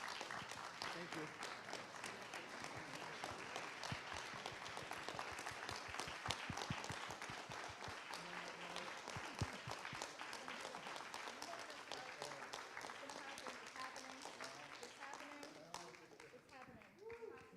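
Convocation audience applauding at an honors ceremony, a long, steady roar of many clapping hands that holds at even strength, with voices faintly mixed in underneath and a slight fade near the end.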